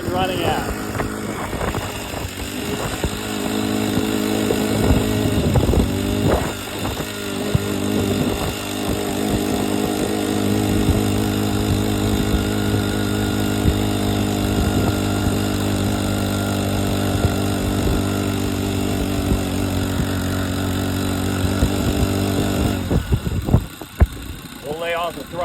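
A small petrol engine on an all-wheel-drive hybrid bicycle buzzes steadily and close, holding a constant droning pitch for a long stretch, with a voice speaking over it.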